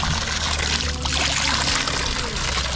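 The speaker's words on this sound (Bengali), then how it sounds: "চব্বিশ ঘন্টা একইভাবে পানি পড়ছে কোনো প্রকার চাপ দিতে হচ্ছে না" A tubewell at Tanguar Haor flows freely without pumping, giving a loud, close, continuous rush of pouring water.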